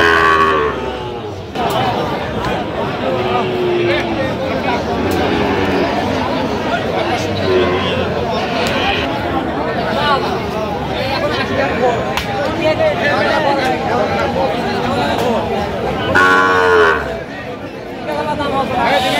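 At a crowded Kurigram livestock market, young Sahiwal bull calves around five to six months old let out several long moos amid a steady hubbub of people talking and haggling nearby.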